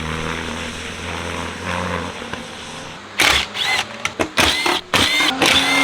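A Porsche Cayman R on a track-day skid pad at Summit Point Motorsports Park: a steady engine drone at first, then sharp broadband bursts and revving surges that come and go as the car works around the pad.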